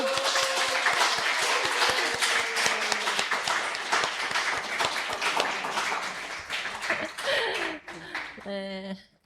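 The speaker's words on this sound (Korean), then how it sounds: "박수로 모실까요?" Church congregation clapping to welcome a guest to the stage, a dense sustained round of applause with some talk and laughter mixed in, thinning out near the end as a clear tonal sound rises over it.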